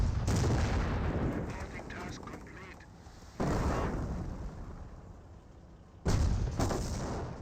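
Artillery rounds fire in Company of Heroes, three loud booms spaced a few seconds apart, each followed by a long rumbling decay.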